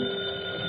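A telephone bell rings steadily through an old-time radio comedy scene set in a tavern, a continuous electric trill at moderate level with no talk over it.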